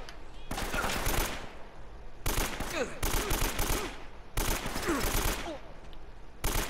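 AK-47 fire in Uncharted: Drake's Fortune: several long, loud automatic bursts rattle close by, each separated by brief pauses.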